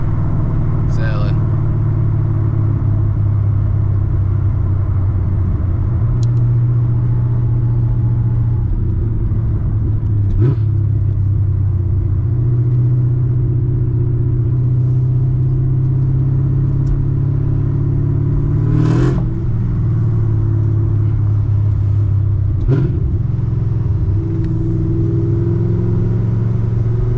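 A 900 hp manual Camaro ZL1 drones along on a drive, and a few sharp exhaust pops crack out over the steady engine rumble, with a voice speaking over it.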